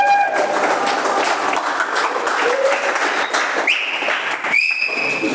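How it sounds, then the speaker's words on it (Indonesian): Loud, steady applause from a crowd, with a couple of sharp whistles cutting through near the end. "Tepuk tangan dulu buat anak muda."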